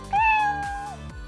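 A cat gives one clear, drawn-out meow, close and loud, with faint background sounds and no talk.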